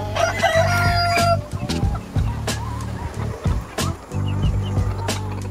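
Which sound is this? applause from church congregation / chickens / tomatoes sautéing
chickens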